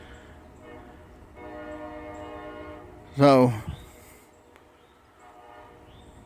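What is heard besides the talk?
locomotive train horn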